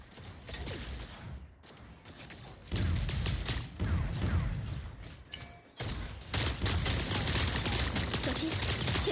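Gunfire in the mobile mecha battle game Super Mecha Champions, loud dense bursts of rapid shots that come in several volleys with brief gaps and a short metallic mechanical clatter between them.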